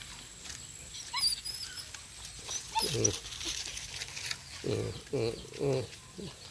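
A dog gives a few short whimpering barks outdoors, with birds cooing and chirping in the background and faint voices nearby.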